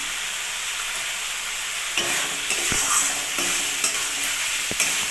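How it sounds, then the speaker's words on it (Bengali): Tomatoes with turmeric and ground spice paste sizzle steadily in a pan while a spoon stirs them, the hiss growing busier with scraping strokes and a few knocks against the pan. "টমেটোটা একটু নাড়াচাড়া করে"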